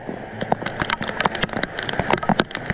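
Rain falls outdoors in a steady patter of close drops striking surfaces, with irregular sharper taps scattered throughout and no talking.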